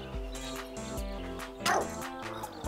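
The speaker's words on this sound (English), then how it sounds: "Okay, so that's how we bark." Two conjoined cartoon dogs in the video game Phogs give a string of short, evenly spaced barks, each one clear and close over soft game music.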